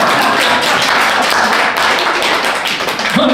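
An audience claps steadily and loudly, close and continuous for a few seconds, with a brief voice near the end.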